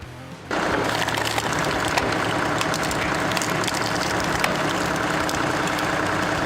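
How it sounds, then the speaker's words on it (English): A log splitter's engine starts abruptly and then runs steadily and loudly at close range, a deep continuous drone alone with no voices. "The log splitter roars to life with a deep engine."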